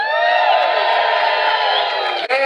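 A theater audience aboard a Princess cruise ship cheers and whoops loudly and steadily in a dense, sustained roar of many voices that fills the room, cutting off abruptly near the end.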